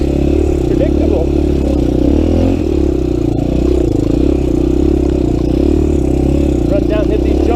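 Honda 350X engine running on a 400EX carburetor, a steady, loud, close droning at a slightly fast idle, with a voice talking over it.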